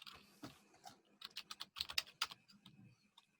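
Computer keyboard typing commands at a command line, quick uneven clusters of close, fairly quiet key clicks with no talking.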